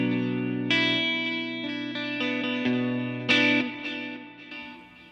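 Electric guitar runs through a Crazy Tube Circuits Venus tube driver with delay and reverb: sustained chords and single notes ring out, repeats and reverb tails trailing each strike, several played phrases fading at the end, no talking.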